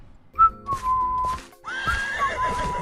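A horse whinnies loudly and close by, a long wavering neigh followed by a second drawn-out whinny, with faint hoof clops beneath.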